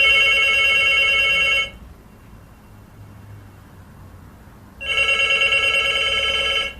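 A telephone rings twice, loud and close, each long electronic ring separated by a few seconds of quiet hiss.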